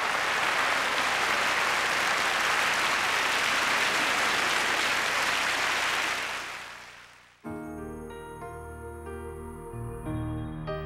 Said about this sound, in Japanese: 皆さんどうぞもう一度大きな拍手をお願いいたします。